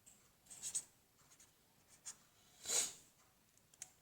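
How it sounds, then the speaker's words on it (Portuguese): Chalk or marker scratches on a board during a physics lecture on Kepler's second law. The strokes are faint and intermittent, a few short ones and one longer, louder stroke, in a quiet room. "Vou escrever aqui."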